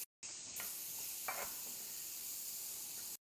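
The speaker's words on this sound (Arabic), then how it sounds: "وبنفس الصاجة طلعنا السمك، ننزل البصل" Onions sizzle in a frying pan that has just been used to cook fish, a steady close hiss throughout with a couple of brief crackling spurts.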